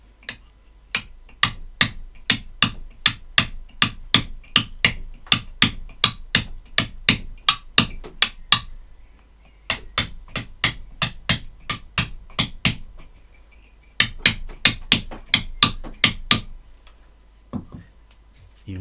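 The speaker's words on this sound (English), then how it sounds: "You notice that I lift the chisel every time I make a cut." Hammer strikes on a chisel carving Storeton stone, sharp close knocks in steady runs of roughly two per second, broken by short pauses between bursts.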